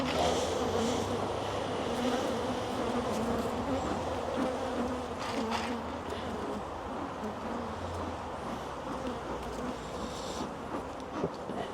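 Honeybees buzz at an open hive during an inspection, a dense, steady swarm hum that stays close and loud throughout with no voices.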